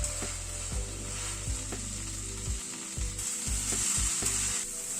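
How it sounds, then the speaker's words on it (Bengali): Dalia frying in a pan with potato, cauliflower and onion: a steady close sizzle with a high hiss, broken by repeated rhythmic scrapes and clacks of a spoon stirring, no voices. "ডালিয়াটাকে 2-3 মিনিট ধরে ভালো করে ভেজে নিলাম।"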